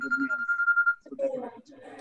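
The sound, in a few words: telephone ringing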